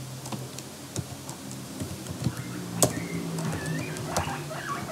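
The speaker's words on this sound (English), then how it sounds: "Inside notepad, I need to type something like this." Keys on a computer keyboard tap out irregular clicks at a modest pace, close by against a quiet room background.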